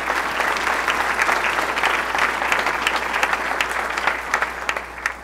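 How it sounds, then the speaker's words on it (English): Steady applause from a large audience at a college leadership event honoring NCAA officials, dense and continuous clapping throughout with no voices over it. "So let's give them a round of applause,"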